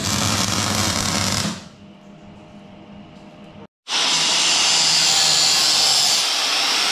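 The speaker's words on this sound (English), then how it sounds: "grinding off the seams so they're nice and flat" Angle grinder grinding off welded metal seams on a removable steel overhang for a Mercedes-Benz Unimog camper build, a loud continuous high whine that drops to a low spin-down, cuts out briefly, then roars back up.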